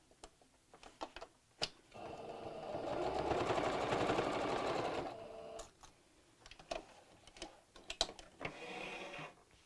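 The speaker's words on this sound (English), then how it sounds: "So this is just a tacking stitch, just so I don't have to manoeuvre around clips." A domestic sewing machine runs one steady burst of about three seconds, sewing a tacking stitch within the seam allowance of a fabric bag lining. Light clicks and fabric handling sounds come before and after, close by, with no talking.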